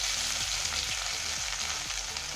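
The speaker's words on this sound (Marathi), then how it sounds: "1 मिनिट ही छान फ्राय होऊ देऊया, म्हणजे आता कच्चा वास निघून जाईल" Ginger-garlic paste and green chillies sizzle and spit in hot oil in a kadhai for masala pav, a steady close frying hiss broken by a few soft stirring scrapes.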